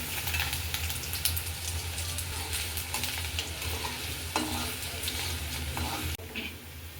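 Continuous crackling sizzle of chopped ginger frying in hot oil, with occasional scrapes and clinks of a spatula stirring in the pan.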